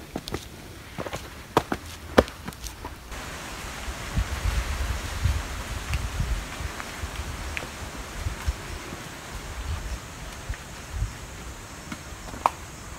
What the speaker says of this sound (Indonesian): Disambut dengan angin berhembus.